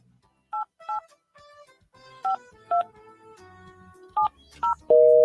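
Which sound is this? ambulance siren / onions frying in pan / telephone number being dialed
telephone number being dialed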